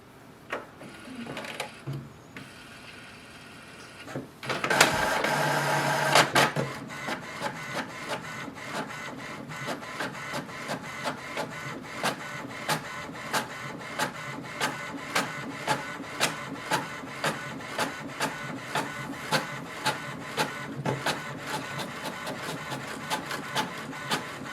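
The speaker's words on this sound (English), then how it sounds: "It will start the printing." An HP Envy 6055e inkjet printer running a print job: a brief loud burst of the feed mechanism, then a steady run of rhythmic mechanical clicks and whirring strokes as pages pass through, close by with no talk.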